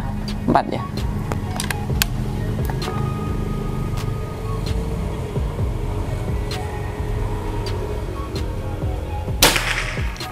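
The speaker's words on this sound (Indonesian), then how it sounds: "Tembakan ke berapa? 4 ya." A Predator Tactical PCP air rifle, Gen 5, lets off a short, sharp pop early on and another crack near the end, with a low, steady background rumble between.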